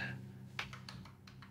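A few quiet, separate keystrokes tap on a computer keyboard, irregular light clicks spread over a second and a half against a faint background hum.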